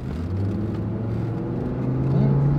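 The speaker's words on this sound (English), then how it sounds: "Now this truck has positive traction in the back, and it's got that five-cylinder engine." A five-cylinder pickup truck with positive-traction rear drives on a small track and accelerates, its engine a steady, close, low rumbling whir that rises slightly in pitch near the end.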